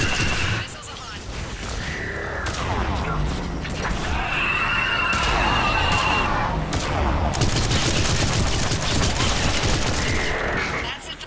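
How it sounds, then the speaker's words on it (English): Missile launches and impacts in the Mass Effect 3 video game, a dense, loud barrage of rapid bursts and booms over a steady rumble, with voices speaking over the firing throughout. "Missiles are hot."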